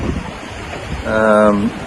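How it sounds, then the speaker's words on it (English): Wind and ocean swell wash around a small 19 ft sailboat sailing solo on the open Pacific between Panama and the Marquesas, a broad steady rush with a brief whistling tonal gust near the end. "Quite windy today. A lot of swell"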